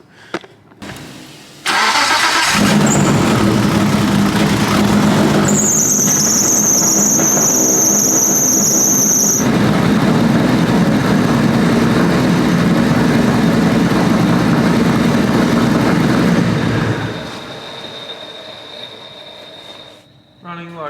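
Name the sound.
Mitsubishi Evo 6 race car engine started and running roughly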